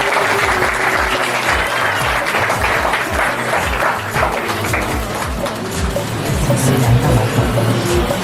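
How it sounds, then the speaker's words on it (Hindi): A church wedding congregation claps steadily and densely, with a rhythmic low thumping pulse running beneath the sustained applause throughout. "हम ताली बजाएं।"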